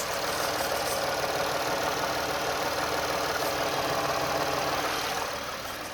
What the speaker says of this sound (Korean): 빠르게 엔진음도 들려드릴게요